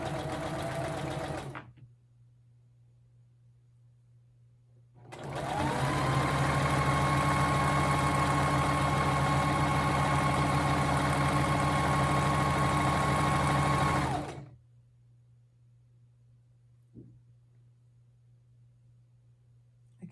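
A sewing machine stitches polyester-spandex fabric for a hair scrunchie, one steady whirring run of about nine seconds between quiet stretches with a low background hum, close and clear.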